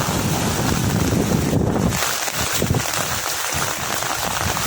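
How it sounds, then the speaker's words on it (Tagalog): Strong typhoon wind buffets the microphone in loud, continuous gusts, with rushing, roaring noise and choppy low thumps toward the end. "Malakas na po ang hangin."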